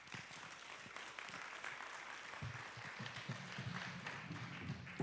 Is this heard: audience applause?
yes